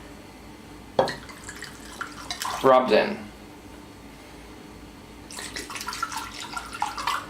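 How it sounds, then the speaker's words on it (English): About two deciliters of wine poured around pork belly in a dish rather than over it: a short gurgling pour midway with light dripping. Talking comes before and after it. "Pour approximately 2 deciliters or less, if you don't want a strong wine taste, around the pork belly."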